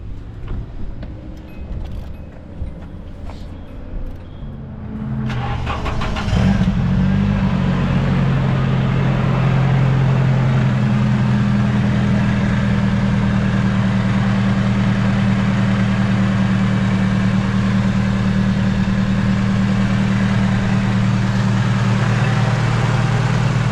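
A drift car engine, just fitted with a new fuel pump, cranks and catches after some faint clicking and handling noises, then settles into a loud, steady, low idle.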